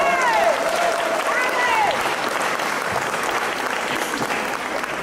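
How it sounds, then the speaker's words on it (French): Audience at a World Day for the Eradication of Extreme Poverty gathering in Villeneuve-sur-Lot applauds an invited expert, sustained loud clapping with crowd murmur and a few whistles and cheers rising above it early on. "Madame Guylaine, on l'applaudit très fort"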